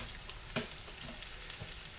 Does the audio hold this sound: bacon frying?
yes